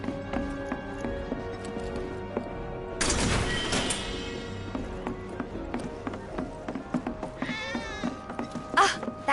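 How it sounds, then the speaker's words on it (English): A cat meows in the Final Fantasy VII Remake video game, a brief rising cry near the end, heard among game music, ambient sounds and a loud whoosh. "Ah, that was definitely a cat."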